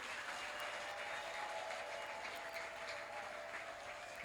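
A church congregation claps together during a Christmas evening worship gathering, a steady, even wash of applause held at a soft, distant level throughout.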